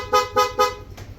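A Honda Click 150 scooter horn honks three times in quick succession, loud and close, each blast short and bright, with a faint fourth tap at the end.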